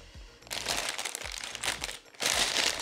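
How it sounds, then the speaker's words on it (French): Plastic LEGO Friends parts bag (Central Perk set) being torn open, a loud, close crinkling and crackling of thin plastic in bursts with a short pause, a few low thumps of handling underneath. "Donc j'ouvre le paquet, ça va faire un petit peu de bruit."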